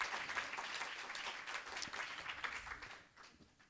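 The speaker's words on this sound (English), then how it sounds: "why don't we all just give ourselves a big round of applause" Faint applause from a convention audience, a dense patter of many hands that fades out toward the end, heard from a distance.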